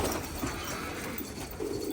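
Pigeons cooing in a coop in Bursa, soft low coos repeating under faint background hiss, fairly quiet and close, no talking.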